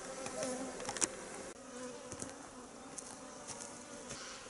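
A steady, dense buzzing of a honey bee swarm around a hive fills the air, a continuous drone with small flickers as individual bees pass close by.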